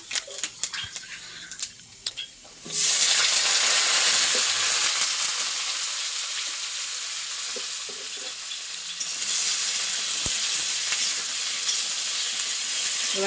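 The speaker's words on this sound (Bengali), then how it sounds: "এবার এটা কিছুক্ষণ ভাজা ভাজা মতো হোক" Panch phoron spices fry with cut eggplant, pumpkin and potato, starting as soft stirring clicks and swelling into a loud, steady, close sizzle that fills the kitchen, with no talk.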